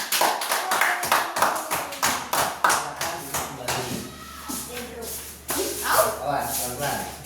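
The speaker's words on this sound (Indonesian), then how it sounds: "Yuk, berikan tepuk tangan kelompok 4." Classroom applause for a group of third-grade students after their flashlight presentation, a ragged burst of clapping from many hands that tails off into scattered claps, mixed with children's voices and shuffling.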